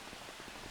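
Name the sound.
rain in video game Farming Simulator 25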